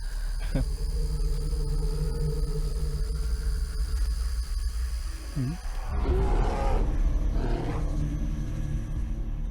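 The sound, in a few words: bear roaring in forest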